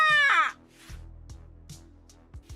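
A crow in the video game Yaga gives one loud, harsh caw, followed by low rhythmic game rumbles and faint clicks.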